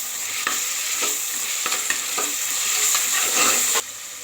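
Ginger garlic paste frying in a pan for vegetable pulao, a bright continuous sizzle broken by several sharp scrapes and taps of a spoon stirring, close and loud, then dropping away abruptly near the end.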